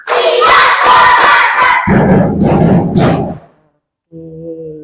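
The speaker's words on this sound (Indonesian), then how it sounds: "Tepuk satu. Tepuk dua. Tepuk tiga. Tepuk empat. Tepuk lima." A school class claps in rhythm during a teaching session, sharp group claps and thumps in a quick pattern mixed with children's shouts, then a brief pause before voices resume.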